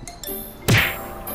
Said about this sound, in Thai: อะไรกันไม่ทันไรรถก็ชนแล้ว